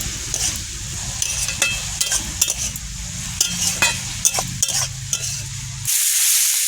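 Lentil dal cooking with a silver carp head in a pot is stirred, giving a steady sizzling bed broken by repeated scraping and clinking strokes of a utensil, with no talk, ending in a brighter hiss.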